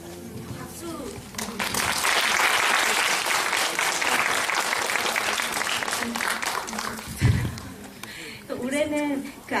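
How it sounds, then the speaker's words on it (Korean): Audience applause at a film festival talk session, steady clapping from a crowd lasting several seconds, with a voice speaking before and after. "박수"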